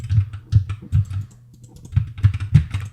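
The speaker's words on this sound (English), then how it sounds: "So this is me just hitting some buttons on my mouse and keyboard." Buttons on a computer mouse and keyboard being pressed, a series of crisp close clicks and taps in irregular bursts with a short pause midway, heard alone in a quiet room.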